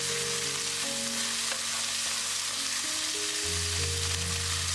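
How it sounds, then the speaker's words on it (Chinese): Diced marinated chicken stir-frying with sliced sausage and corn kernels in oil, a dense, constant sizzle close by, with a faint tonal hum underneath and no voices. "把腌好的鸡丁放进来先炒一下，炒至鸡肉表面变白时，放入火腿肠和玉米粒一起翻炒。"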